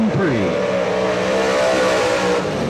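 A Pontiac Grand Prix dirt-track race car with a Scott Pass competition engine, running a qualifying lap at Atomic Speedway, roars loudly and continuously, its pitch dipping briefly before holding a steady, hard-driven drone.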